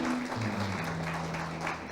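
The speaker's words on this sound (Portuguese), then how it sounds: "uma salva de palmas para os nossos visitantes" Steady applause from a church congregation welcoming visitors, continuous and moderately loud, with a low hum of voices underneath.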